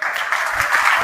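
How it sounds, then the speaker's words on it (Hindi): A live audience claps during an induction programme lecture at GITAM, with a brief burst of applause that stays steady across the whole moment. "उसके लिए थोड़ा ताली लगाइए"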